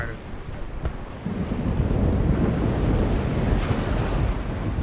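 Howling chaos storm from The Longest Journey video game: roaring wind and crashing surf swell into a dense, continuous wall of noise, loud and close, with a faint low rumble underneath.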